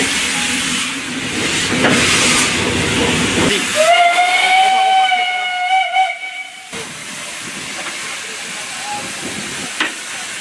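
Mikado steam locomotive on a heritage train run near Cahors, with loud rushing steam hiss followed by a long, steady whistle blast of several seconds, then quieter hissing and rail noise.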